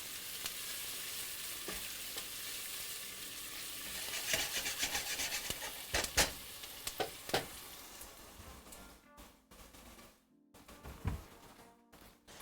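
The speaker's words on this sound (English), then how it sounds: "Give this a stir." Kabocha squash soup being stirred in a pot, a soft scraping and swishing of a spoon through liquid with a few sharper knocks against the pot, close by and fairly quiet, with no talking.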